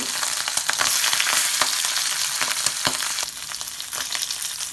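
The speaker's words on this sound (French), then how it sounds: "Et le beurre cuit bien." Butter fries in a pan with a close, bright hiss and a quick run of spitting crackles and pops, uninterrupted by any voice.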